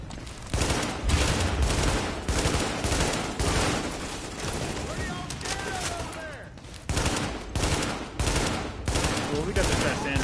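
Rapid automatic gunfire from a firefight in Tom Clancy's The Division, a shooter video game, comes in dense, loud bursts with short gaps, joined briefly by a whistling sweep midway through.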